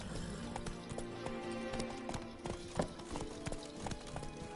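Horse hooves pound in a rapid, continuous galloping clip-clop in The Witcher 3, steady and close throughout with a brief louder thump partway through, under a low game soundscape.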